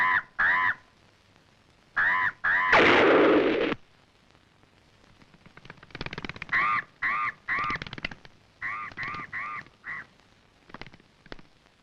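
Crows caw loudly in a film scene, with repeated harsh calls in short bursts and a brief loud noise between them, followed by further scattered cawing.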